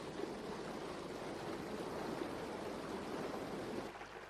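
River water flowing through a Drakensberg mountain valley in South Africa, a soft continuous rushing hiss, steady and faint, easing slightly near the end, with no voices.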